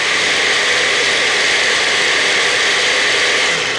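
Close, loud blender running continuously on almonds with a bright, even whine and rushing motor noise, no voices.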